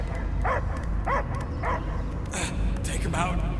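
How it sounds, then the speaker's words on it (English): A dog in the video game Guardians of the Galaxy gives several loud barks and yips in a steady rhythm over constant rumbling background noise, with speech mixed in. "I hear only barking."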